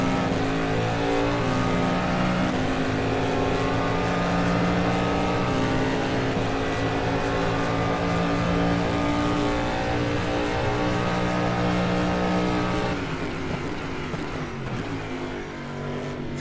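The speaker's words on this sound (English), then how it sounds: "you can hear these wonderful DPI cars down the back straight" Several DPi prototype race cars roar down the back straight at Buddh International Circuit during a 12-hour endurance race, engines loud and continuous with rising and falling revs as cars pass, no talk over them.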